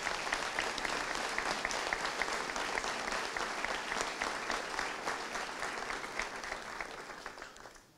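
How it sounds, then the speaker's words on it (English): Sustained applause from an audience at a 2018 graduation ceremony, dense steady clapping from many hands that holds at an even level and slowly fades toward the end. "Let's give them a round of applause."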